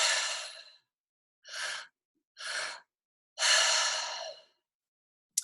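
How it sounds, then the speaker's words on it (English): A breathwork pattern of two mouth inhales, one into the belly and one into the chest, followed by a single long exhale, soft and close, the airy breaths separated by short pauses with no talking. "the breathwork pattern is actually 2 breaths in and 1 breath out"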